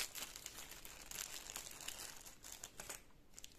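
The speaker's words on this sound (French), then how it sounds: "Je vais vous le déballer." Close, faint crinkling and rustling of plastic packaging as a cross-stitch kit is unwrapped, with continuous small crackles throughout.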